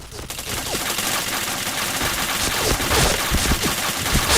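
Dense video game gunfire in a multiplayer shooter, rapid overlapping shots and bursts in a loud, continuous barrage with no pause.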